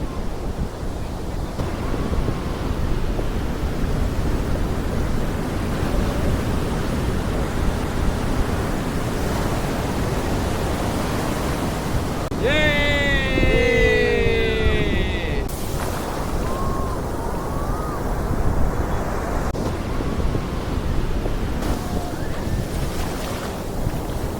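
Continuous roar of surf and wind buffeting the microphone at RK Beach, Visakhapatnam, with a brief tonal engine-like whine partway through.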